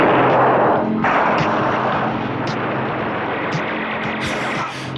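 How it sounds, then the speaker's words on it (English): Movie soundtrack gunfight mixing laser-gun effects with regular gunfire: a dense, continuous roar of rapid shots and blasts, with occasional higher zapping bursts near the end, loud and unbroken, with no talking. "Sounds like someone's having a laser gunfight near this regular gunfight."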